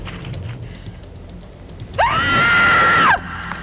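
A woman screams in a horror film, one sustained, loud, shrill cry lasting about a second, rising sharply and cutting off abruptly over a low, murky background.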